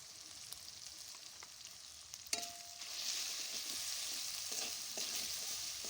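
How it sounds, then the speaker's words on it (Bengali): A ginger and cumin paste masala fries steadily in a pan for vegetable dal, giving a soft continuous sizzle with a few light scrapes and ticks of stirring, and no voices. "এর মধ্যে আদা জিরে বাটা দিলাম, মশলাটা ভাজা হয়ে গেছে।"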